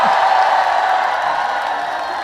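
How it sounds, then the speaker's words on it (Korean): A festival crowd at an outdoor Hoengseong Korean beef festival stage applauds and cheers for a singer, a steady, dense wash of clapping and crowd noise held at an even level throughout. "큰 박수 드립니다."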